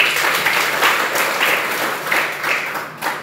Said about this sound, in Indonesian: Perlu kita memberikan aplaus.